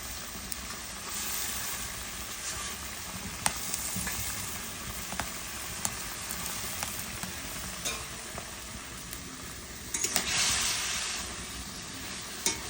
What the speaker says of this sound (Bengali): ফুটান্ত ঝোলের মধ্যে আমি এখন শাকটা দিয়ে দিচ্ছি